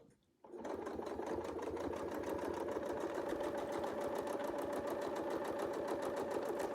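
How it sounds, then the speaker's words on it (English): A quilting sewing machine starts up and runs steadily, stitching along a Westalee ruler template for flying squares, an even rapid mechanical whir with a fast needle rhythm, close and alone. "All right, and now we'll start stitching."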